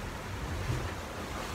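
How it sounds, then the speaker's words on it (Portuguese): Steady broadband rush of sea waves breaking around a sailboat on a Caribbean crossing, with wind noise across the microphone and no voices. "E das ondas que tá quebrando aqui."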